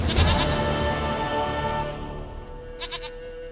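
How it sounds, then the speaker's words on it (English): A goat bleats loudly in The Witcher 3, one drawn-out quavering call close up, tailing off into quieter game ambience. "Goat of mine, dearest, sweetest goat."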